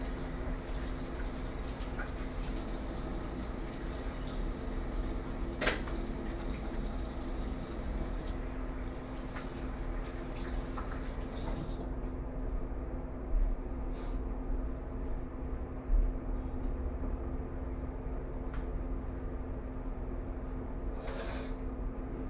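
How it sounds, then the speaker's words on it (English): Water runs steadily from a tap during hand washing, a broad continuous hiss that stays fairly close and even, ending with a quieter stretch after the flow seems to ease off. "I'm gonna wash my hands real quick"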